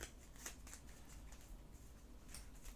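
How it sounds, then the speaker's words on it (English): Cards shuffled from a deck during a tabletop game session, a soft continuous riffling patter with brief crisp flurries, quiet and close with no talking. "I'll just shuffle the deck and then we just draw a random card"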